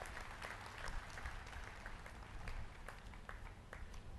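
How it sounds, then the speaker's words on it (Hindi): Audience applause welcoming the Vice President at a retirement honour ceremony in Kota, Rajasthan: steady, dense clapping from a crowd filling the whole stretch, fairly loud and close with no talking over it. "श्री जगदीप धनखड़ का जी हम सब ताली बजाकर स्वागत करते हैं"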